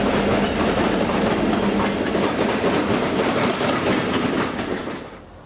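EMD demonstrator SD70M locomotive 7014 leading a freight train of trailers through Stockton on the Fresno subdivision, a steady loud rumble with rhythmic clickety-clack of wheels passing, fading slightly at the end.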